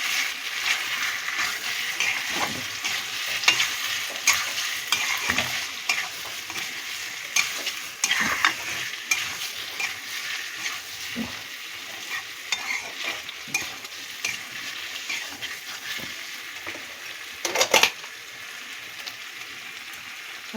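Ginger-garlic paste frying in hot oil for a tangra fish curry, a continuous crackling sizzle broken by repeated scraping stirs of a spatula against the pan, one louder clank near the end; no talking.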